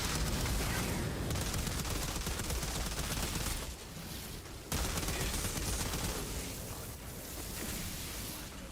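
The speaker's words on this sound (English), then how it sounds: "Fire the missiles." Missiles fired in a video game, a dense, loud roaring barrage of blasts and rumbling explosions with a brief drop partway through before the din resumes.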